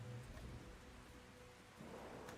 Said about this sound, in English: Also, maybe let's let's stop the rain.